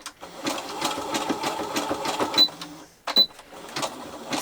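Sewing machine running close and fairly loud while stitching cotton wrist wraps, a fast rhythmic needle chatter that stops briefly around three seconds, then resumes.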